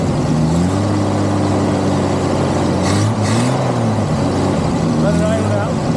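Military M715 truck engine fitted with a Holley carburetor idles steadily and close by, a low continuous rumble that settles down, with voices talking over it.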